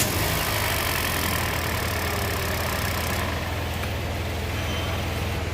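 A Hyundai Creta with a starting problem runs at a steady idle, its engine producing a loud, continuous, close-up drone that stays even throughout, with no voices.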